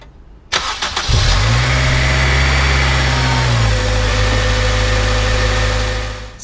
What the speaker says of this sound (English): start the engine, let it run for a couple minutes